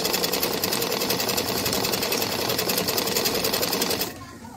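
A sewing machine stitches fabric for a balloon top in a rapid, steady mechanical chatter that runs close and continuous for about four seconds, then stops abruptly, leaving quiet room tone.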